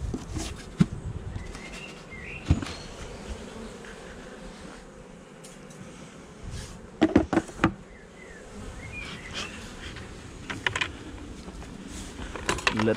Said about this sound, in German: Letztes Bienenvolk.